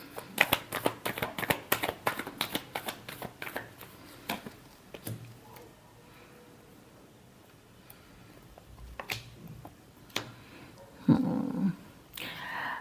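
Tarot cards are shuffled in quick crisp bursts of riffling clicks, near and fairly soft, then taper into scattered taps and a brief muffled rustle toward the end.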